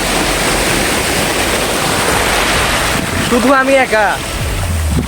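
Sea surf roars continuously at Kuakata beach on a lonely stretch of shore, a broad steady wash with wind buffeting the microphone, while someone talks briefly over it near the end.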